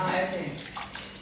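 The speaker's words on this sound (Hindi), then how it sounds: "हाथ धो रही है गाइस हाथ धुल गए" Tap water running steadily into a basin while hands are washed, a soft continuous splashing hiss over the short stretch.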